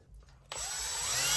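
A power drill pre-drilling and driving screws through shims into a shower pan on a concrete slab. After a brief quiet start, a close, loud, steady motor whine kicks in and holds.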